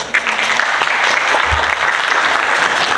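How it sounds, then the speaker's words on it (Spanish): An audience at a public forum on drinking water breaks into sustained applause, dense and even clapping filling the room for the whole stretch. "para quien pido un aplauso"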